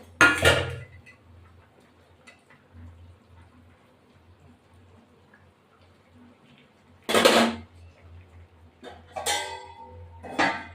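A lid goes onto a pot of thin tengra fish curry with metallic clanks: one at the start and a cluster of clattering knocks near the end, separated by a quiet stretch.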